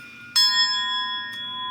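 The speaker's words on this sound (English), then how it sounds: "you get that bell? I think I bought it in Israel, in Jerusalem, actually." A hand bell bought in Jerusalem struck once, a sharp metallic ring that sustains with a long clear decay and a faint second touch near the end, close and alone.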